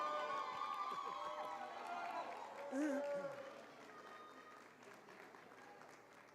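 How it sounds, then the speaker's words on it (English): Audience applause fills a hall at a 2022 NAPF powerlifting regional championship: a steady wash of clapping with crowd voices and an announcer's speech mixed underneath, swelling briefly midway before settling back. "Let's have a big round of applause, people."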